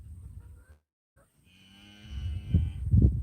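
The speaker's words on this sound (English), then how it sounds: "Can you hear them mooing?" Cows at a farm fence give several low moos, the loudest near the end, with a quiet gap and a faint steady tone in between.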